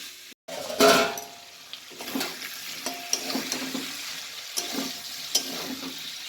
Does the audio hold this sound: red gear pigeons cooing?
no